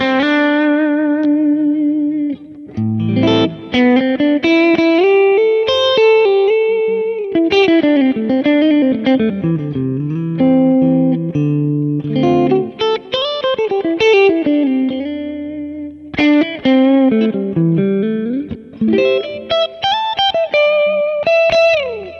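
A single-coil electric guitar through a Kemper profiler with its studio EQ switched off plays a sustained melodic lead line with bent and gliding notes, distorted with chorus and reverb, continuous and loud with no talk.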